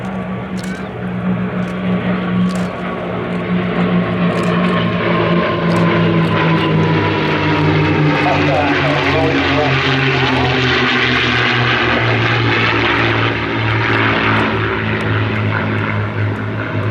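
Sally B, a Second World War B-17 bomber, flies a display at Sywell Airshow with both port engines trailing smoke; the loud, steady drone of its piston propeller engines runs continuously throughout, with a slowly shifting pitch as it passes.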